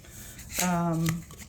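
Thick cardstock tarot cards are shuffled in a short, soft riffle lasting under a second, with a brief voiced sound over it.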